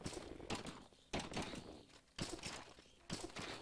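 Wooden door thunks in the Minecraft video game, several hollow knocks of opening and closing repeated at roughly one-second intervals, sharp and close with no talking.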